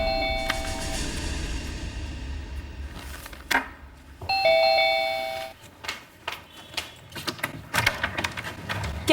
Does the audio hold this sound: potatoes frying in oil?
no